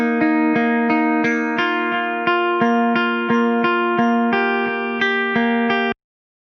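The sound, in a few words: clean guitar sound for a future bass drop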